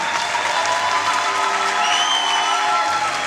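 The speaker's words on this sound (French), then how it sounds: "ayant applaudi encore un peu plus fort" Sustained applause from a large crowd at a University of Kinshasa honorary doctorate ceremony, dense and steady throughout, with a few faint cheers mixed in.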